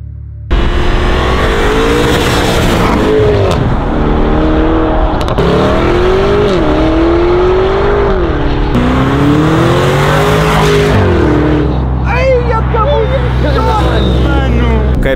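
A Lamborghini drives on a road, its engine loud and close throughout with rising and falling revs, speeding past with tire noise near the end.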